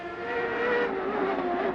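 IndyCar race cars cross the line in formation at speed, a blended roar of high-revving engines swelling and shifting pitch, fairly distant and without commentary over it.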